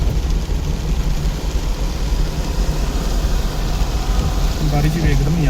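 Sudden rain falls while driving, a steady loud hiss and patter on the car mixed with engine hum, with a voice speaking faintly underneath near the end.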